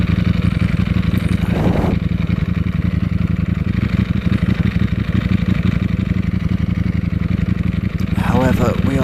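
A Ducati Panigale V4S ridden over a gravel track, its engine holding a loud, steady drone throughout, with a rider's voice briefly breaking in near the start and again near the end.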